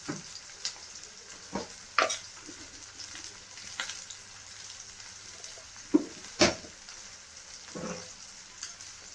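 Finely chopped onions and a little cumin frying in oil for a village-style spicy lakhori vegetable dish, a steady soft sizzle broken by scattered clinks and stirring scrapes, fairly faint with no talking.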